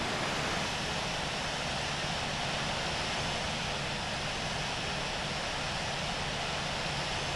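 A simulated airliner taxiing to parking at Frankfurt Airport in a flight game gives a steady, faint broadband engine hiss with an even, unchanging rumble.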